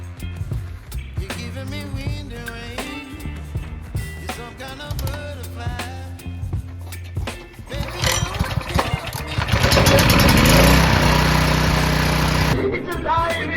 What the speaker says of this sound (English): we just got done here with the generator and we got it running